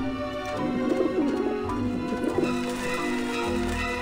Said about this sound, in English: I like the bird sound.